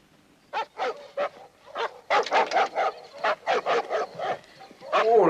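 A dog barks and yips in a series of sharp close bursts, some quick and clustered, with whimpering tones between them and a louder bark at the end.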